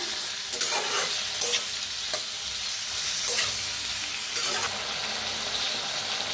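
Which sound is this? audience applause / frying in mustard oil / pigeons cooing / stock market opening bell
frying in mustard oil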